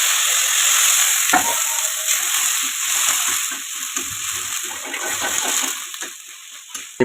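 Ginger garlic paste frying and stirred in a pan, a loud continuous sizzle with a few spoon scrapes and clinks, no talk.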